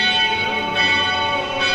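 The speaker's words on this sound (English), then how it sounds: "That was the longest bell" A church bell in Utrecht rings loud and near, its rich sustained overtones humming continuously with no talk over it.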